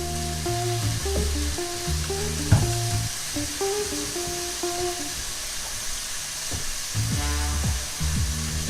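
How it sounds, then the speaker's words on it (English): Minced garlic sizzling in a pan for a chicken stir-fry, a continuous frying hiss under a loud, repeating musical backdrop, with a short clatter partway through. "I'm going to add a nice big plop of minced garlic."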